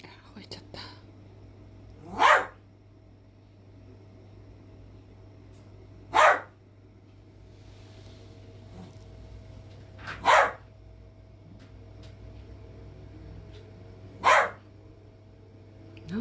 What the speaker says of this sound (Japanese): 吠えちゃった。